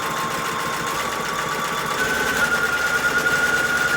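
A sewing machine runs steadily, stitching log cabin quilt block fabric, with a continuous close motor whir whose pitch rises a little partway through.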